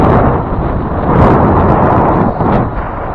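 Wind buffets a camera microphone outdoors, making a loud, continuous low rumble and roar that swells slightly throughout.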